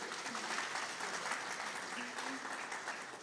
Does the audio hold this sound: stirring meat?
no